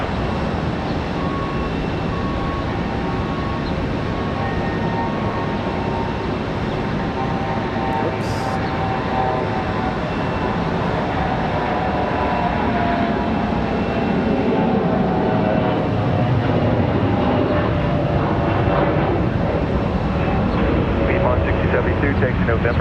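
An Airbus A321 bound for Fort Myers takes off, its jet engines a loud, steady broadband roar that swells and holds throughout, with a voice talking over it.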